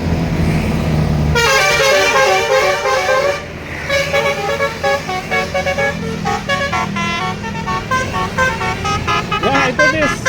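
A bus on the winding road toward Pangalengan blasts its loud musical horn repeatedly, a long patterned melody of tones in bursts, close and dominating while someone talks over it and traffic rumbles beneath.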